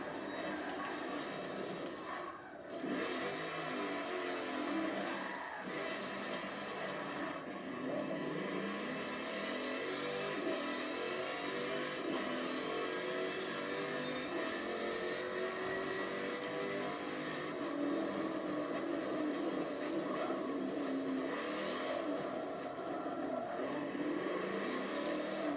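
A 2017 Chevrolet Corvette in Forza Motorsport 7 drives at full throttle down a straight, its engine a loud, sustained drone that holds steady for the whole stretch without talk.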